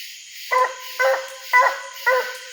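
A hound dog bays while treeing a raccoon at night, four loud, evenly spaced barks about half a second apart, each ringing out over a steady hiss of insects.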